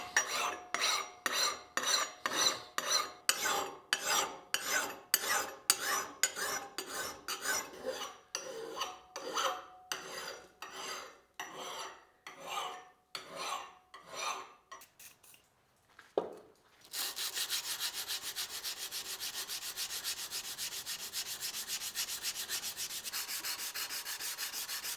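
A forge-welded axe edge is filed and sharpened by hand, giving steady rhythmic rasping strokes, close and distinct, that slow and pause before a continuous finer grinding hiss takes over for the last stretch.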